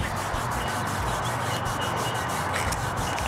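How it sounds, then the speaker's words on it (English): Kinesiology tape rubbed onto skin along the lower back, a continuous close, dry rubbing swish with faint rhythmic strokes and no talk. "gently rubbing it over the tape"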